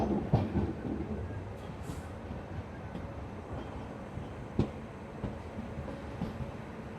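From aboard the 17210 Seshadri Express with new LHB coaches, a steady rolling rumble fills the carriage, broken by occasional sharp clacks and knocks from the wheels on the rails.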